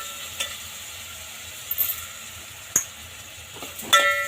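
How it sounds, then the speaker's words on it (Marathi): Mixed dals for khichdi are stir-fried in a pan, a faint, low sizzle interrupted by a few scattered spatula scrapes and clinks. "आपण दोन मिनटं फ्राय करून घेऊया"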